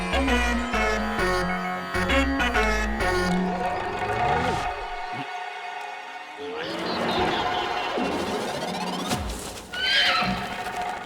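A horse whinnies loudly in a long, shrill, wavering neigh, then snorts and calls again, with some clattering and background noise.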